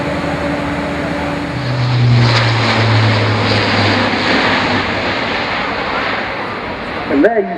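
A propeller aircraft flying a display at the RIAT airshow, a loud sustained engine drone that swells as it passes and keeps droning steadily at a moderate distance, with crowd and ambient noise around it.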